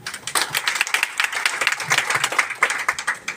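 Audience at a Mumbai gathering clapping continuously, a dense crowd applause with many close, sharp hand claps blending into a steady rattle throughout.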